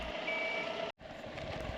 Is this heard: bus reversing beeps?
yes